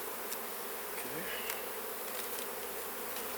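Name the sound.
honeybees buzzing around an open hive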